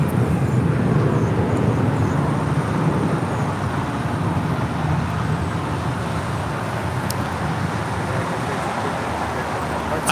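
An American Airlines A321 roars down the runway on takeoff at LAX bound for Atlanta, a loud, steady broadband rumble of jet engines heard from outside, holding constant throughout.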